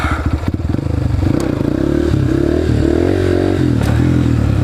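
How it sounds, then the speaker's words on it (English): A dirt bike's rear wheel spins on concrete while the engine revs hard, a loud, close, sustained motor drone with clattering and scraping at the start. "I'm spinning on the freaking concrete."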